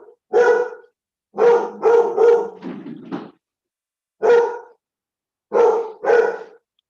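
An excited dog barks loudly and close by in a ragged series, several quick barks in bunches with gaps of silence between them, and no voices alongside.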